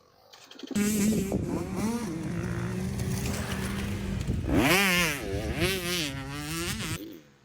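Motocross dirt bike ridden through a corner at Cycle Ranch, its engine buzzing loud and close with a steady drone, then revving up and down through gear shifts as it exits.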